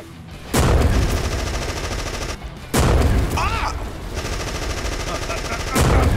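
Video game gunfire in GTA 5: loud bursts of rapid automatic fire, close and continuous, broken by brief pauses, with excited voices shouting over the shooting.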